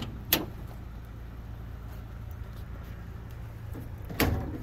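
Rear door of a 2006 Mercedes Sprinter 2500 camper van conversion, with a sharp clunk near the start and another solid thud near the end over a low, steady background hum.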